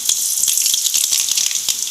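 Mustard seeds and urad dal fry in hot coconut oil, a close, loud sizzle dotted with sharp, irregular popping crackles throughout.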